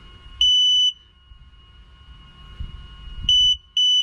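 Sharp, loud electronic beeps from the controller of an electric frunk actuator on a Tesla Model X: one half-second beep, a long pause, then two shorter beeps close together, with faint background noise between them.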